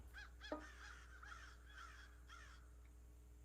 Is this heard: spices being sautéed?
no